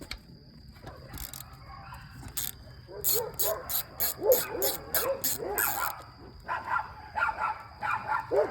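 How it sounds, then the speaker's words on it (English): Several dogs bark in a rapid, excited series of sharp yaps, fairly close, with yips and whimpers mixed in and crickets faintly in the background. "I got dogs here, they're barking,"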